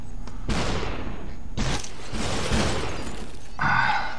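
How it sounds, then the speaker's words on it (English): Gunfire in the video game Superhot, several loud bursts of shots and crashing impacts separated by brief gaps, ending with a harsher mechanical clatter. "I can hear bullets."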